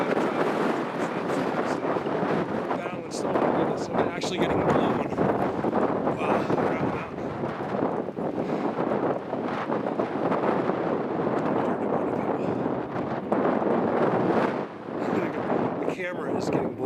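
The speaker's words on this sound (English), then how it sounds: "So windy up here." Heavy wind buffeting the microphone in a constant loud roar, with gusts rising and falling throughout.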